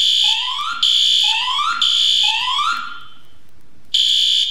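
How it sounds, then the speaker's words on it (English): A Siemens speaker strobe fire alarm in a Roblox game sounds loud whooping tones, each rising sweep followed by a steady high tone, repeating in a rhythmic cycle with a short gap near the end. "one Siemens speaker strobe that's in here that we're going to hear go off in a second"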